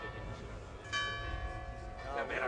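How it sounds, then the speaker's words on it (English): Church bells ring on a Sunday morning at an archery world championship in Turin, with sustained, overlapping tones, a fresh stroke swelling in partway through, heard faintly at a distance. "As you hear the church bells on this gorgeous Sunday morning in the background."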